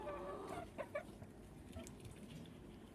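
Soft chickens clucking in short bursts at a moderate distance in a barn, over a steady low background hum.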